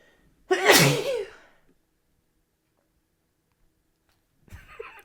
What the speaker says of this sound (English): Hold on, I feel a sneeze.